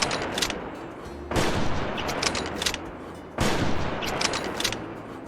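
Gunfire at a pteranodon in the Prehistoric Hunt hunting game, two loud sharp shots a couple of seconds apart, each trailing off into a long rumbling echo over steady outdoor ambience.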